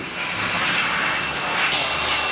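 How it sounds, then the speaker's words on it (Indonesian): A vacuum extraction machine pulls dirt out of foam upholstery, producing a loud, constant roaring rush of air that stays steady, close and uninterrupted throughout. "Kemudian kita angkat kotoran hasil pengekstrakan menggunakan mesin vakum."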